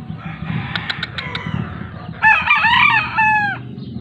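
Five-month-old yellow-legged Kelso gamefowl roosters crow loudly and close by in one long, wavering call, after a few short clucks over low farmyard background noise.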